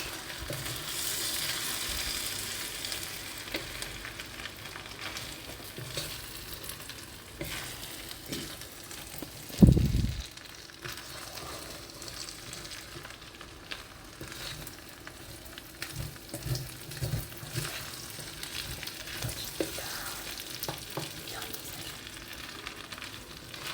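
Rice with vegetables, sweetcorn and peas being stirred in a sizzling pan: a continuous frying hiss with scraping utensil strokes and one sharp knock near the middle, close by and without speech.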